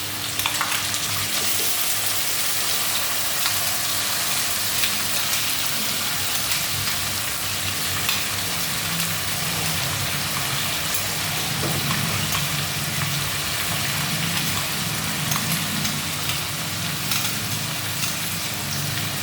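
Spice paste sizzles in a pan of fried potatoes while a fish curry is cooked, giving a loud, steady, crackling fry that runs unbroken throughout with no talking.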